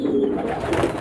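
A carrier pigeon coos close by, soft low warbling notes rolling continuously and fairly loud, with no talking.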